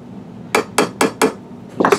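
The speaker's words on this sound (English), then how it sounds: "I'm just gonna grab my little hammer here and kind of just ease it in there." A small hammer taps a trigger into a Remington 700 rifle: four crisp, evenly spaced metallic taps, then a quicker cluster of lighter taps, close and loud with no talking.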